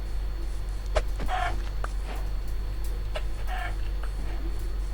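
Chickens in Minecraft cluck in short scattered bursts over a constant low hum, a few soft calls spaced across the stretch.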